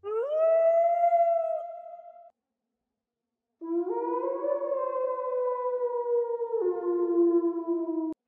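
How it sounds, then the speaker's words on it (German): A wolf creature in the video game Path of Titans lets out two long, loud, tonal howls, the first sliding up and holding, then a short silence before a longer second howl that steps down in pitch near its end, heard alone. "Oh, wie lange der heult."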